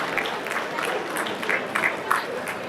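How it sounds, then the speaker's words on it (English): Scattered, moderately loud clapping from attendees at a national pharmacy conference in Nigeria, with irregular sharp claps over a murmuring room. "Total clap for regulator, Daniel Gamogo"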